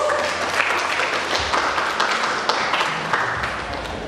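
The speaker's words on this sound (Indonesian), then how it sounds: "tepuk tangan dulu kita semua." An audience at a motivational talk claps together in a moderate, even burst of applause that stays fairly constant, heard from within the room.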